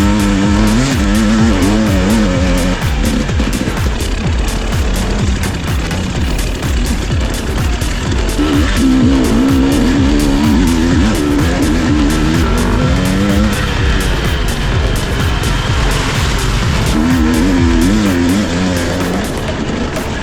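Enduro motorbike racing at Todds Leap, with a loud, close engine revving hard and shifting down through the gears over a continuous roar, pitch rising and falling as the rider slides into corners.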